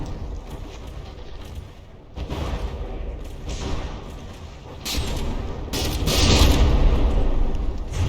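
Continuous rumbling barrage of booms and explosions from a battleship shell volley in the game From the Depths, dense and overlapping, swelling louder toward the end like heavy shelling.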